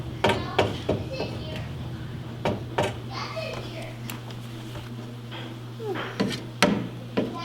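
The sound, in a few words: hammering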